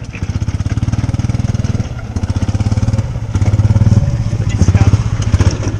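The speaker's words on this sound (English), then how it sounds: "listen to that exhaust" A loud Nissan Pathfinder SUV engine idling and revving close by with a throbbing, pulsing exhaust note that rises and dips over several seconds.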